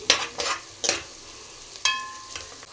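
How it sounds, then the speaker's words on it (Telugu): Ginger-garlic paste fries with onions in a pan for an aloo methi curry. A spoon stirs and scrapes in a few distinct strokes over a soft, steady sizzle. "ఒక స్పూను అల్లం వెల్లుల్లిపాయ పేస్ట్ కూడా వేసుకొని పచ్చివాసన పోయేంత వరకు ఇదైతే వేగనిద్దామండి"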